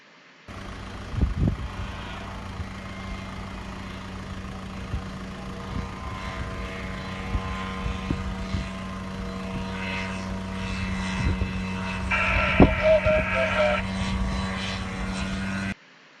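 A Sherwood Kub microlight's engine roars steadily through the takeoff roll and climb, a loud continuous propeller drone with a constant low hum and a few brief bumps, close to the microphone with no talking.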